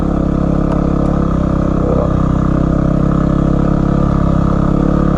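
A Yamaha WR250R motorcycle engine drones loud and steady at close range while climbing an off-road hill, a constant rough thrum with mechanical clatter and no break.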